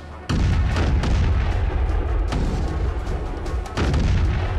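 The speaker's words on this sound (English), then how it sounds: "Our target is in the zone. Commence firing. Repeat, commence firing." Heavy ship guns fire in a film battle against a giant shark, a continuous roar of deep booming blasts with sharper shots breaking through, loud and close with no talk over it.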